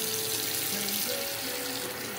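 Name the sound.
cold tap water running into bowl for eggplant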